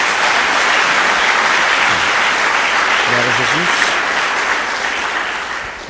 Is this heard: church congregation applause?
yes